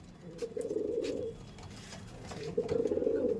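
An Andhra Lambari pigeon coos close by in two low, throaty bursts separated by a brief lull, with soft background noise.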